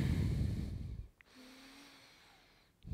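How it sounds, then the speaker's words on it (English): Deep abdominal breathing during a beginner yoga class, one loud close breath followed by a quiet pause and the start of another breath, with no talking. "We stay here for 3 deep abdominal breaths."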